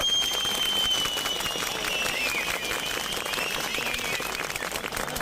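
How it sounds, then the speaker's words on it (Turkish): A crowd of protesting delivery couriers gathered at a company headquarters applauds continuously, a thick, even wash of clapping with a thin whistle-like tone drifting above it. "buraya gelen herkes alkışlasın"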